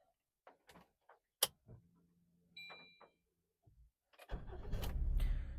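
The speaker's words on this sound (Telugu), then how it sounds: "వెహికల్ అయితే సింగిల్ సెల్ఫ్లో స్టార్ట్ అయింది." A 2020 Maruti Swift Dzire VXI petrol car: a few clicks and dashboard beeps, then the starter catches on the first try and the engine settles into a steady close idle.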